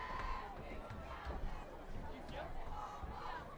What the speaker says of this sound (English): There's a rather healthy crowd of Piers Middies fans here.